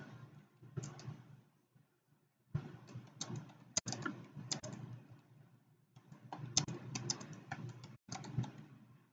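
Rapid bursts of keystrokes on a computer keyboard as a temporary remark is typed into an e-office file, the quiet clicks coming in irregular runs separated by short pauses, with no voices.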